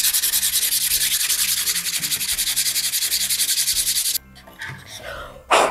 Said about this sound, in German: So, schleifen wir das Ganze noch mal ein bisschen ab hier.